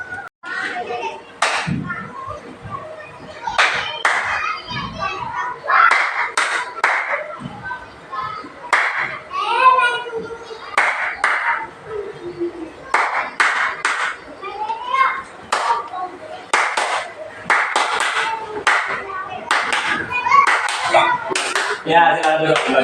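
Children in a classroom clapping hands in rhythmic group patterns, sharp bursts of claps repeated in clusters, interspersed with a teacher's voice and children's chatter.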